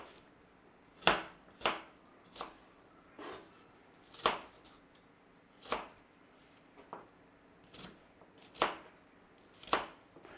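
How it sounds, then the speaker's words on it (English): Sharp knife chops cut through cored apples into cubes on a board, about a dozen distinct crisp chops at an uneven, unhurried rhythm, close and fairly quiet with no talking. "And then we're going to cube these apples."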